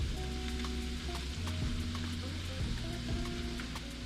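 Cabbage and sweet onion frying in a pan give a steady, close sizzle with a low hum underneath and a few soft stirring knocks, heard alone without talk.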